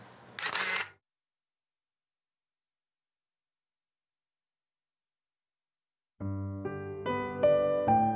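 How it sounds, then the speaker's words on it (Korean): A camera shutter fires once, a single sharp close click, followed by several seconds of silence before soft music comes in. "첫 번째 셔터를 눌렀다."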